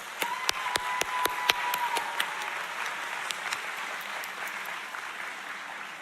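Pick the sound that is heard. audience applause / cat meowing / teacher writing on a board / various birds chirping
audience applause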